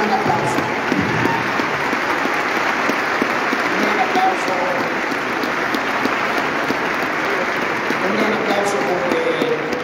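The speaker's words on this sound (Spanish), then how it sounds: "un gran aplauso." Applause from a crowd at a swearing-in ceremony for municipal delegates and citizen participation councillors, a steady broad clatter of many hands with voices mixed underneath throughout.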